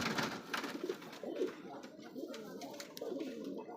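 Racing pigeons from a club coo softly nearby in a series of low, rolling calls, fairly quiet, with faint background noise.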